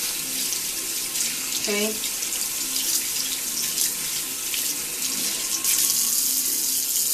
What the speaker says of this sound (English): So you're going to rinse it out, always pointing the brush downward.